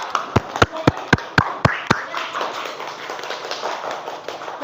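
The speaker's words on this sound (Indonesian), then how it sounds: "beri tepuk tangan untuk kelompok 1" Classroom clapping for a student group after a magnet experiment presentation, opening with several sharp, loud, evenly spaced claps before thinning into softer scattered clapping and room murmur.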